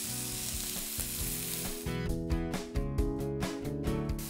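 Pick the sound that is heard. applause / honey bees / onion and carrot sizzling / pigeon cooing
onion and carrot sizzling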